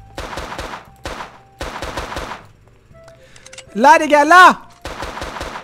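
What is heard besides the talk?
gunfire in a cowboy video game (Peekaboo)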